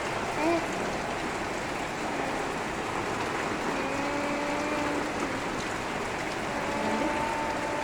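Dense, continuous rain roars evenly for the whole stretch, a steady wash of falling water with faint tones drifting underneath.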